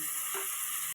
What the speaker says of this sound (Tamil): நம்ம உருளைக்கிழங்கை சேர்த்து நல்லா வதக்கி விட்டுக்கலாம்